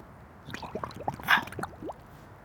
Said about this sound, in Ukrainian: Відкручую цього, набираю воду.